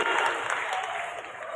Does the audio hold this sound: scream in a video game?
no